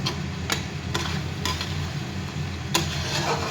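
Masala spices fry with goat meat in a pressure cooker, giving a steady low sizzle. A few sharp scraping taps from stirring come at irregular intervals.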